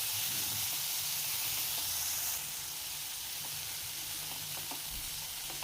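Soaked black chickpeas and ginger fry in a pan with a steady, close sizzle and hiss, plus faint stirring scrapes and light pops throughout.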